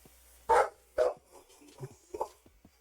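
A dog barking indoors at some distance, two clear barks followed by a few softer yips, fairly loud and alone with no speech.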